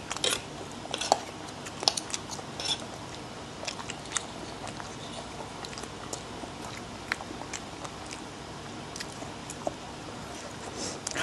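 Close, wet chewing of cheese sausage and Korean instant noodles, with small clicks and squishy bites repeating unevenly throughout, no talking.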